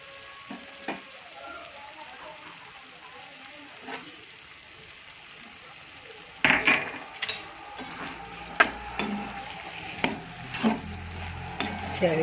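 Dahi bataka shaak, a potato and curd curry topped with sesame seeds, stirred in a pot: faint simmering at first, then louder scraping, clinks and sizzling bursts from about halfway on.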